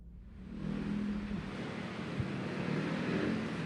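Heavy, congested traffic on EDSA Guadalupe makes a dense, steady roar of engines and tires, a continuous wash of vehicle noise with a low rumble that swells slightly, with no voices.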